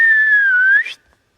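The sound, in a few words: person whistling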